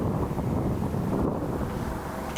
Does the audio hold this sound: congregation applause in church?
no